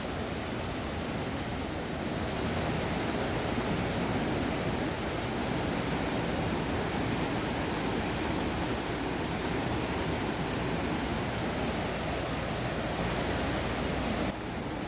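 Surf breaking along a Hawaiian shore where surfers ride, a steady broadband wash that holds at the same loud level throughout with no voices.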